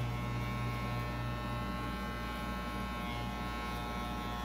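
Electric hair clippers giving a low fade haircut, a steady close buzzing hum that runs without pause, with no talking.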